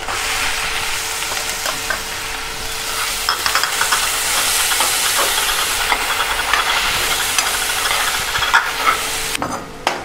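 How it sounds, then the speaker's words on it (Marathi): Onion fries in a pan for a home-cooked boti fry, with a loud, steady hiss and sizzle and scraping stir strokes running throughout, close up and with no talking. "त्याचबरोबर घालूया कांदा।"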